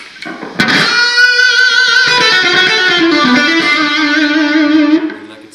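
A distorted electric guitar holding sustained notes through a Dunlop 535Q wah pedal used as a fixed filter, giving a nasal tone, loud and steady before fading out.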